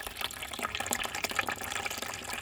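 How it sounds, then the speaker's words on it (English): Rainwater drawn from a collection barrel gushes steadily into a 5-gallon bucket, a close, continuous splashing and bubbling pour with no talk over it. "I'm going to fill this 5-gallon bucket up."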